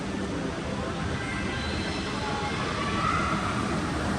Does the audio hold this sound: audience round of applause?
no